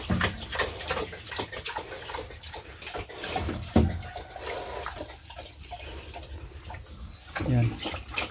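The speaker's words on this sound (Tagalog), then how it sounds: "Tapos mag add lang tayo ng tubig para ma-dissolve" Water splashes and pours into a container to dissolve Latigo 1000 for farm spraying, a continuous sloshing and gurgling with a few louder splashes, close by and without speech.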